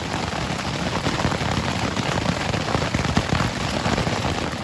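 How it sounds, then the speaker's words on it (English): Hail pelting down hard and steadily in Yosemite, a dense, loud crackling patter of many stones striking ground and surfaces at once, continuous with no pauses. "it's hailing like crazy"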